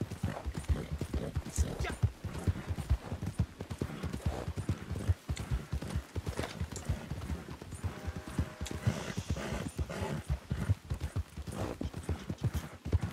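Horse hooves clip-clopping in the video game Red Dead Redemption 2, a brisk continuous rhythm of close hoof strikes lasting throughout, with occasional brief whinny-like sounds and faint background game ambience.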